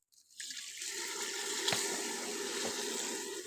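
Water pours steadily into a cooking pot while making zarda sweet rice, with a continuous splashing rush, starting abruptly and staying close and even.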